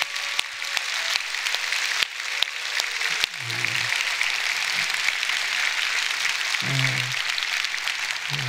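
A church congregation applauds during a Sunday worship service, a steady wash of clapping across the whole stretch with a few low murmurs underneath.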